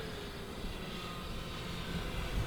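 E-flite Carbon-Z Cessna 150T, a 2.1 m electric RC plane, flies overhead with a steady, smooth motor drone mixed with outdoor wind noise, moderately distant and continuous.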